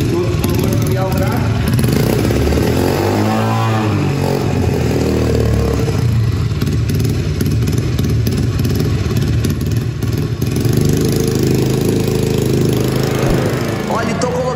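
Engine of a student-built car running at a polytechnic school, a loud close clattering motor with shifting revs throughout, with people talking over it.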